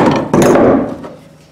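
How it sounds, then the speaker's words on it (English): A single heavy hammer whack seats a part during a fuel pump replacement on a 2002 GMC Sierra truck, with a loud close metallic thud that rings briefly and fades. "by putting down force on this, getting this thing lined up and hitting it with a hammer, it's going in"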